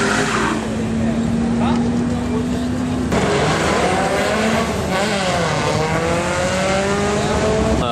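Drag race at a track, a Dodge and an E36 BMW M3 launching side by side: loud, near engines revving and rising in pitch through the gears with a sharp shift partway, under an announcer's voice.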